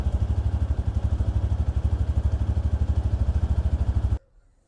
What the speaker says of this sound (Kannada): ಹೈಡ್ಲಿಂಗಲ್ಲಿ ಈ ಥರ ಸೌಂಡ್ ಬರ್ತದೆ.